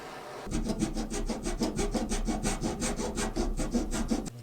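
Sandpaper rubbing over cut wood pieces for a box van camper build, about twenty quick even back-and-forth strokes in a steady rhythm, close and clear with no talking.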